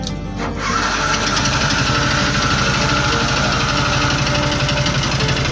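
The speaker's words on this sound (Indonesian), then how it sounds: "Bentar ya, kita hidupin mesinnya ya." A machine engine with a manual pedal starts up after a brief crank, then settles into a steady, loud, close idle with a fast even vibrating rhythm.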